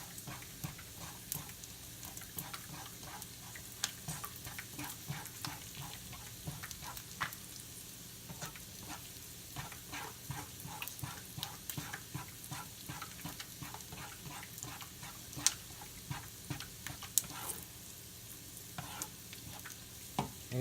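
A gravy base sizzles in a frying pan while being stirred, giving a steady frying crackle with repeated soft scraping strokes, fairly quiet and close, with no one talking.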